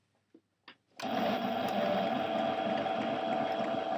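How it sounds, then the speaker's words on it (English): A sewing machine starts up after a couple of soft clicks and runs steadily stitching along a t-shirt edge, a continuous close mechanical whir. "I simply just place the edging of the t-shirt under the sewing machine"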